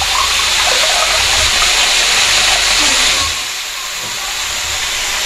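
Water gushes into a cooking pot in a home kitchen, a loud steady hissing pour that eases slightly toward the end, close and continuous without talk.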